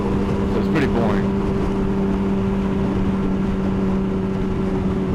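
A Yamaha R6 motorcycle cruising on a highway makes a loud, continuous engine drone under heavy wind roar, steady throughout.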